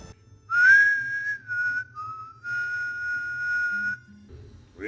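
A person whistles a short melodic tune, with clear sustained tones that slide between a few notes before trailing off, close and alone.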